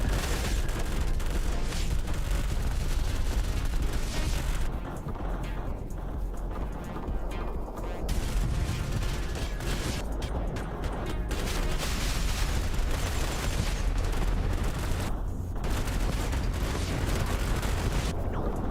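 Missiles fire in the RTS game Rogue Command amid dense, continuous battle noise, with loud bursts and booms layered over a constant din and no talking.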